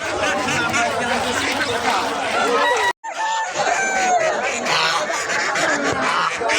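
Ducks and chickens quack and cluck in a busy Tuesday market at Goalimandra while people talk close by, and the noise briefly cuts out partway through.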